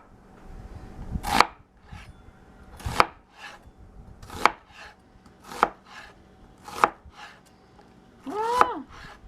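A knife chops an onion for pot roast on a cutting board: six sharp, separate thuds spaced about a second or more apart, loud and close, with a short breathy vocal noise near the end.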